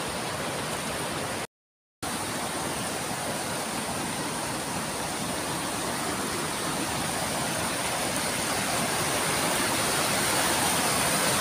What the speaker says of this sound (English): I'll actually show you the waterfalls.